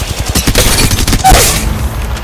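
Rapid bursts of gunfire rattle in a fast, uneven rhythm during an Apex Legends Mobile match in Kings Canyon, loud and close with booming low thumps underneath.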